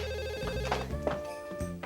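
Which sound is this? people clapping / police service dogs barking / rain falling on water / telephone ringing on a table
telephone ringing on a table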